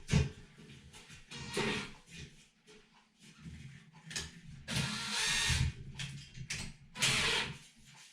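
A power drill drives screws into the shower door divider of a bathtub converted into a shower, with repeated whirring bursts and ratcheting pulses starting and stopping close by.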